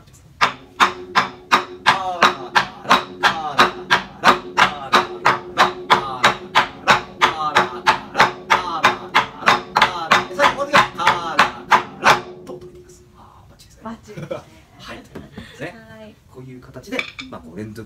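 Wadaiko taiko drum edge hits, kara strokes struck on the wooden rim, a fast, even run of sharp clacks for about twelve seconds, followed by quieter scattered sounds.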